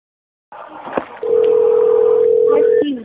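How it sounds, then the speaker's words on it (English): Telephone dialing tones play in a video game. A steady, loud tone holds for over a second, with short clicks and shifts in pitch at each end, over a faint background hum. "A number was dialed here."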